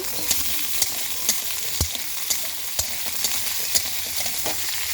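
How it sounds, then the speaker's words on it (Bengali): Potatoes frying in oil over cumin seeds, a bright steady sizzle punctuated by regular knocks and scrapes of a spatula stirring in the pan, close and fairly loud. "দিয়ে দেবো আলুগুলো একটু ভেজে নেব"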